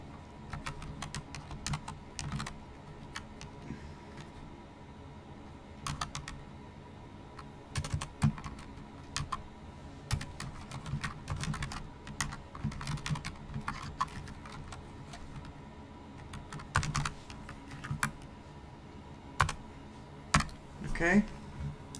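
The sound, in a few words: typing code on a computer keyboard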